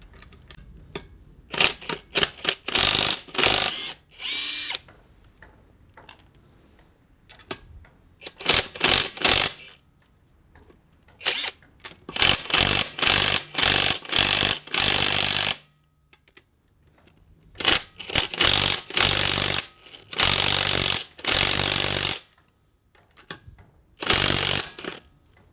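A cordless impact wrench bought from AliExpress and set to its fastest speed is loosening car wheel nuts. It fires many short, loud, rapid hammering bursts in irregular clusters, with quiet gaps between them.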